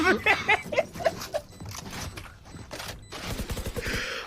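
Rapid gunfire bursts in a Valorant pro match between Sentinels and TNA, sharp repeated shots and clatters in quick clusters, with a heavier volley of fire near the end.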